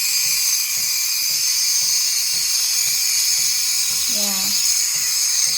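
A GEMILAI 3005G espresso machine's steam wand hisses steadily with the nozzle tip submerged and tilted in milk, a continuous loud roar with faint rhythmic gurgling, and a brief voiced word spoken over it.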